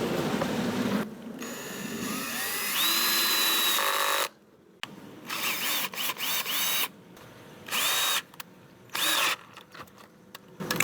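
Power drill with a 3/8 or 1/2 inch bit boring holes through an old wooden gate, in several loud whining bursts with short pauses between them.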